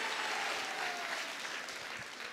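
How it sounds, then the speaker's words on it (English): Steady applause from a crowd at a high school cross country state championship celebration, sustained clapping throughout at an even level with no voices over it. "One more round of applause for them"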